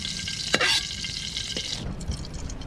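Fish and aromatics sauté in a hot pan with a sharp sizzle burst and a stirring scrape early on, followed by a steadier, quieter crackle that fades in the last second.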